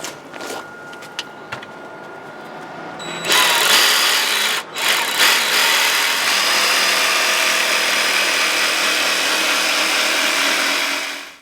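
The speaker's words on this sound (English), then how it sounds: "The vermiculite board is soft and it cuts easily with a regular jigsaw," A jigsaw fitted with a wood blade starts up and cuts through soft vermiculite board, its buzzing motor rising into a loud, steady rasp after a few quiet handling noises and a brief pause.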